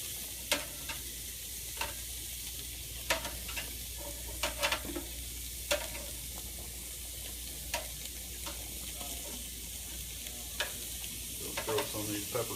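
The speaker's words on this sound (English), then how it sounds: "Getting some nice sear on the steak from high heat and cast iron cooking grids." Steaks searing over high heat on the cast iron grids of a Broil King Porta-Chef tailgating grill, a faint steady sizzle with occasional small ticks and scrapes.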